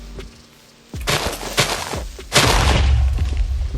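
Two loud, booming blasts of a creeper exploding in Minecraft, the second heavier with a rumbling tail, following a quiet moment.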